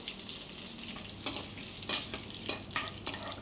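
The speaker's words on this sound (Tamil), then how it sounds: "மிளகு கொஞ்சமாக சேர்த்துக்கிறேன் நல்லா பொரிஞ்சு வரணும் கருவேப்பிலை ரெண்டு கொத்து சேர்த்துக்கிறேன்" Pepper and curry leaves frying in hot oil for a dried-fish curry, a steady crackling sizzle with intermittent sharp pops and stirring scrapes, close and fairly loud.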